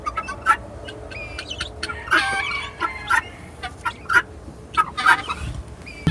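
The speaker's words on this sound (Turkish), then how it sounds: "Şimdi bugün de yine Hint horozlarımız ve beçlerimizin olduğu kümesteyiz." Turkeys gobble and guinea fowl squawk in bursts throughout a coop, several birds calling close by with overlapping chatter and scattered sharp cries.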